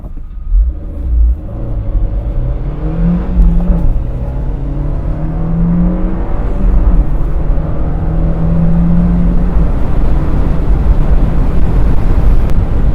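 A 2017 Fiat 124 Spider with a manual gearbox pulls away and accelerates hard, its engine note rising steadily in pitch under a loud, constant rumble of road and wind noise.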